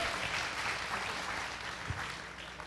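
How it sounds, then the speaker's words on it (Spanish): Church congregation applauding loudly and steadily, a dense wash of clapping that tapers slightly toward the end. "Denle un aplauso bien fuerte"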